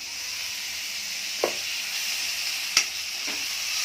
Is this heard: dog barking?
no